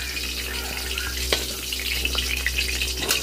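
Pointed gourd (potol) fries in a pan for a mustard potato-and-gourd dish, a continuous close sizzle broken by a few sharp clicks and light clatter.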